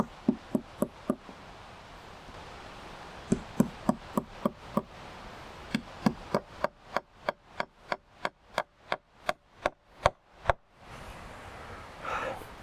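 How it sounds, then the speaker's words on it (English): Hammer driving roofing tacks into canvas on a shed roof: close, sharp single strikes in quick runs, with short pauses between sets. "and hammer that in."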